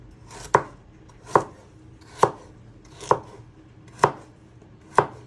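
A knife dicing food on a chopping board for pea and ham soup, six sharp, evenly spaced chops close up, roughly one every second, with quiet gaps between.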